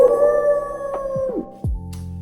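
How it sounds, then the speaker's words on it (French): A dog in a forest gives a long, loud wolf-like howl that holds steady and then falls away, followed by a short lower yelp near the end. "c'est juste un chien qui court à travers la forêt en faisant des bruits de loup"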